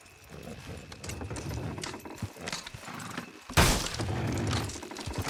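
Horses hauling a wagon in Red Dead Redemption 2, their steady hoof clip-clop running under a busy mix of game sounds, with a sudden loud crash-like burst partway through before the clatter carries on.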